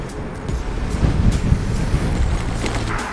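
Wind buffets the microphone while riding a bicycle with a strong tailwind at close to 30 km/h, a steady broadband rush with low rumbling gusts and no talk.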